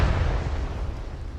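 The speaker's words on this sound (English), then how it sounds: "Rocket!" A rocket explosion in a military simulation game, heard as a heavy, deep boom with a rumbling tail that fills the whole moment and fades only slightly.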